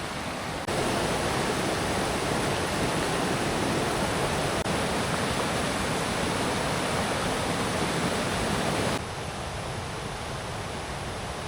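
River water flows steadily as a continuous broadband rush, loud and close throughout, easing slightly near the end with no voices.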